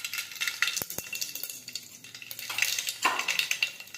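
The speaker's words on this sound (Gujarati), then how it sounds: "હવે આપણું તેલ છે તે ગરમ થઈ ગયું છે। હવે આપણે તેમાં રાઈ અને જીરું નાખીશું।" Mustard seeds and cumin drop into hot oil in a pan, raising a bright crackling sizzle with a couple of sharp utensil clicks near the start, close and steady throughout.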